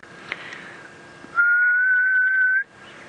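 A person whistles a single sustained, slightly wavering low note imitating the haunting call of a ghost bird, heard on a sunset safari drive, loud and alone over faint background hiss.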